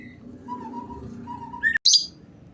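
White-rumped shama birds give soft whistled calls, followed by a sharp bright chirp and a brief knock. The calls are close and moderately faint over a quiet background.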